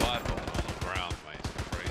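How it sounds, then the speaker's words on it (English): Dense machine-gun and rifle fire crackles in rapid bursts from a Hell Let Loose battle, loud and close, with no pauses across the stretch. "I'm under heavy fire."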